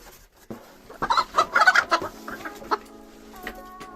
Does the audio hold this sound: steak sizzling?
no